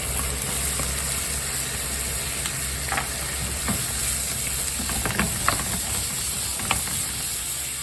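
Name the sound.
bacon frying in oil in a frying pan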